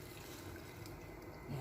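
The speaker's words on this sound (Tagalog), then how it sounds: "Ayan, ibubuhos ko na." Dissolved stock cube broth is poured into a pot of minestrone soup, giving a faint, continuous liquid trickle and splash that runs throughout the moment.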